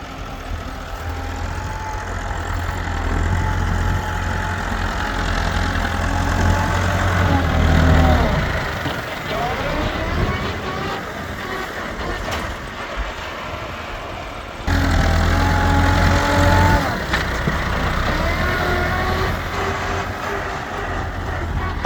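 A Massey Ferguson 385 tractor idles steadily beside a trolley being loaded with soil, a low, heavy engine drone with a brief swell in revs midway. Faint voices and outdoor activity sit underneath.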